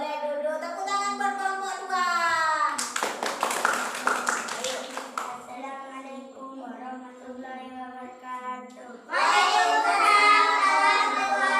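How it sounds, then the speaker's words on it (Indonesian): A class of children in an Indonesian classroom breaks into a short burst of clapping for group 2, set between stretches of loud, sung chanting voices that return strongly at the end. "Tepuk tangan buat kelompok 2."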